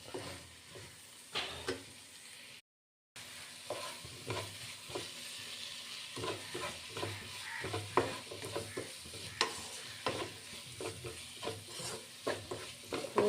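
A spoon stirs a cardamom mixture frying in a pan, giving repeated scraping strokes over a steady low sizzle, close and fairly quiet, with a brief dropout early on.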